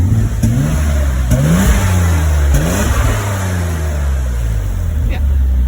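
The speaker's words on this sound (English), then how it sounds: "my colleague is going to rev it a little bit, because now the engine is warm." A warm Alpina B10 Bi Turbo engine is revved several times in quick succession. Each blip rises in pitch and falls back to a loud, steady idle rumble, with faint voices in the background.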